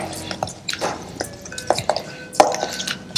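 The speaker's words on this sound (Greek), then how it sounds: "Ανακατεύω." A spoon stirring salmon, shrimp and tuna tartare with lime juice and chives in a bowl, giving close, irregular clinks and soft wet squelches, with no talk.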